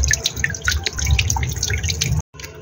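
Water falls slowly and settles into a container, a run of small close drips and splashes over a low wet rumble, cutting out abruptly near the end.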